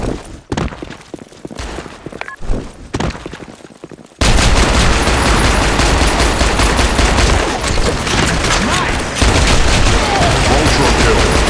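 Pistol gunfire in the shooter game Blackshot: scattered sharp shots at first, then a dense, loud, continuous barrage of rapid firing and impacts.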